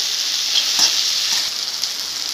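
Green chillies sizzle in hot oil for poha, a steady bright crackling hiss with small pops, close and continuous without any talk.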